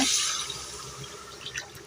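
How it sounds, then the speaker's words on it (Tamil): Tamarind water pours and splashes briefly into a cooking pot of radish sambar, a watery rush that fades out over a couple of seconds, with no voices. "புளி தண்ணியை ஊற்றிக்கலாம்"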